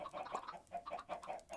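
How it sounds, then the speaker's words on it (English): Soft, faint clucking from chickens in Minecraft, a run of short repeated clucks in an uneven rhythm, quiet and without talk. "Let's feed all these chickens."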